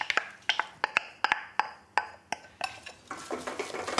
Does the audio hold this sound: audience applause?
no